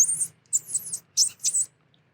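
A man imitates a mouse with four short bursts of high, thin squeaking, each separated by brief silence, close to the microphone with no other sound.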